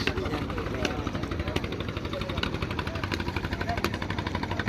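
Fishing boat engines throb steadily at Moynot ghat on the Padma river, a close, continuous pulsing drone that never lets up.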